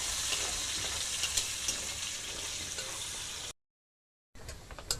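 Chopped ginger and garlic fry in hot oil with a steady, busy sizzle and crackle, close and even, broken by a sudden gap of total silence before the sizzling resumes; no one speaks.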